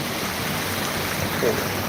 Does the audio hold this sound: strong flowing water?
yes